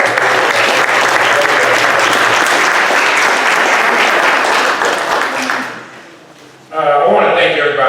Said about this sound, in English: Give a round of applause for Danny.